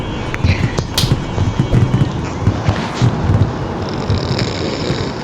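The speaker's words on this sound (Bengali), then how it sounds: "আর দেখছো আতশবাজি করতেছে।" Video game fireworks go off in scattered crackling pops and sharp bursts over a breathy, wind-like background. The bursts come close together and sound fairly loud.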